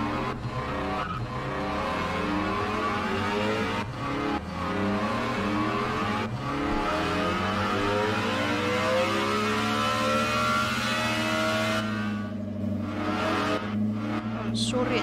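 Car engine in Roblox Vehicle Simulator revving hard, with layered rising and falling engine tones and tire squeals running continuously and loud, no talking over it.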